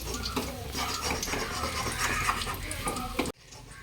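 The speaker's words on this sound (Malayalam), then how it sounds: "ഞാൻ തേങ്ങ വറക്കട്ടെ" Grated coconut roasts in a pan with steady sizzling and scraping, stirring clatter close by, until the sound cuts off abruptly near the end.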